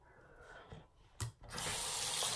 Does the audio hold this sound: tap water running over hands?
yes